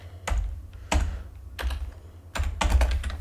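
Fingers type a Google search on a computer keyboard in four quick bursts of close, clattering keystrokes, each separated by a short pause.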